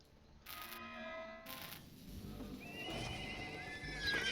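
A horse in a video game neighs twice in quick succession, clear and fairly close, then hooves clip-clop along a road under faint ambient game sounds.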